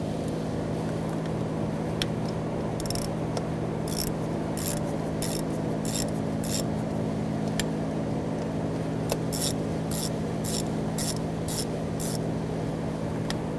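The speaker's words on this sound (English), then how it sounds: "Loosen that up. I'm just going to go back and forth because there is a little bit of spring tension under this." Screws come loose on the high-pressure fuel pump of a 2007-2013 BMW X5 3.0L inline-six, a ratchet ticking in short, spaced bursts of crisp clicks over a low, steady background hum.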